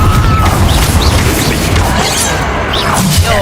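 A Confringo fire-blast spell goes off during a Hogwarts Legacy duel: a loud, close crashing boom with swishing magical whooshes and rumbling debris, packed densely into a few seconds of game combat.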